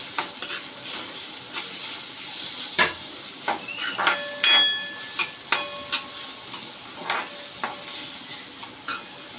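Corn, capsicum and paneer bhurji being stirred in a pan with a spoon, a soft sizzle underneath and a string of distinct scraping and clinking strokes at an irregular rhythm, no talking.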